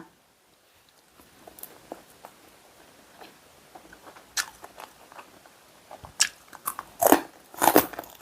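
Crispy beef skin crackling eaten with spicy jaew dip gives close, sporadic crunchy bites and chewing, sparse at first and then louder and denser toward the end, with no talking.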